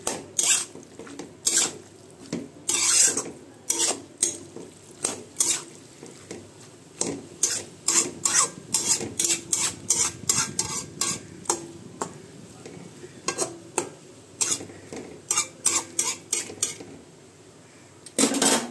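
Greens stalks stirred in a cooking pot, a series of sharp, close clanks and scrapes of a utensil against metal in irregular bursts, with a faint background of cooking.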